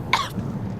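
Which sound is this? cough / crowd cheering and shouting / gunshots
cough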